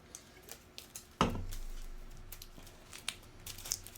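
Sleeved board game cards are shuffled close by, giving soft plastic crinkles and light clicks, with one sharper slap early on followed by scattered ticks.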